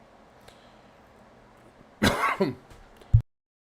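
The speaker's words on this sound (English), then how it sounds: "sorry about that cough" A single harsh, throaty cough bursts out close to the mic after quiet, followed by a short final rasp.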